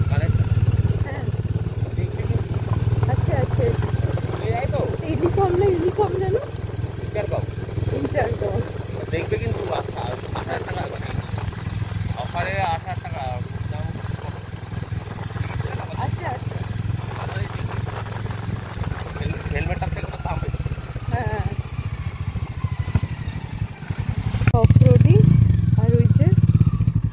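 A motorcycle rides off-road through a dense sal forest in Purulia, its mid-pitched engine droning and clattering near and continuously, with people talking over it and a louder rumble near the end.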